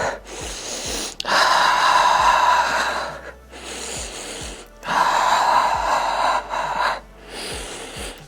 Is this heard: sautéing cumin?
no